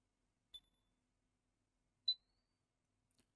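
A motherboard tester card on a Lenovo G50-80 laptop board gives three short, high electronic beeps spaced unevenly in a quiet room. The second beep is the loudest and the last is faint.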